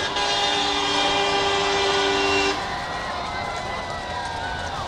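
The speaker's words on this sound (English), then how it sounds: "Looks like somebody stopped at Walmart and picked up an air horn." A loud, sustained air horn blast with steady tonal bands holds for about two and a half seconds, then cuts off, leaving crowd noise from a football game crowd.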